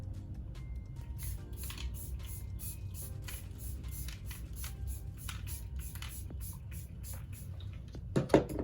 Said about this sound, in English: We're gonna set the face with this e.l.f. Stay All Night Micro Fine Setting Mist.